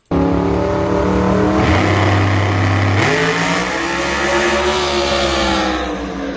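A drag race between a nitrous big-block Fox Body Mustang under 3,000 pounds and a Coyote-swapped GT500 with a stock ECU, VCT and 6R80 transmission: a loud, sustained engine roar climbs under full throttle, shifts once midway, then keeps pulling hard.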